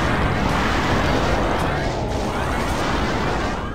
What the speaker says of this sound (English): use the rocket launcher on these guys